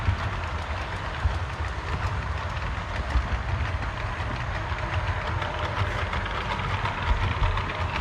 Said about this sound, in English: we got the Conrail going through the Intermodal yard right now